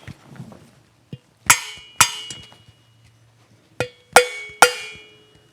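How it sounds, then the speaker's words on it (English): A plastic hammer taps parts into place on a Aermacchi motorcycle cylinder head, giving about six sharp, ringing metallic clinks in irregular pairs, close and loud with quiet pauses between. "So I got a plastic hammer and we give them a tap."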